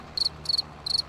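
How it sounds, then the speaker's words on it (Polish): Three short bursts of high, trilling cricket chirps at even intervals over a quiet background, from the video game Farming Simulator 22. "Ale świerszcze, nie?"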